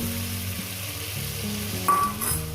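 Spiced water poured into a pan of fried drumstick pieces, a steady hot sizzle and bubbling with a brief clatter of utensils toward the end.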